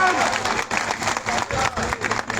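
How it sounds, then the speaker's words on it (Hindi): An audience at an All-India mushaira and kavi sammelan poetry recital applauds loudly and continuously, a dense wash of clapping with crowd noise and some voices mixed in. "ताली बजाइए, एनर्जी में।"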